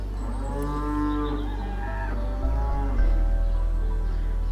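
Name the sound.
cows mooing across the way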